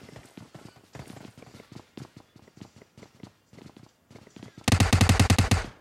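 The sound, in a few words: gunfire in PUBG Mobile video game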